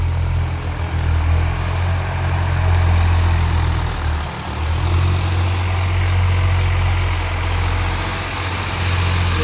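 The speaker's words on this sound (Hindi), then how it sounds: "अभी ट्रैक्टर चला रहे हैं।" A tractor engine runs steadily nearby, giving a loud, continuous low rumble with a strong bass drone and a slight dip midway, with no voices over it.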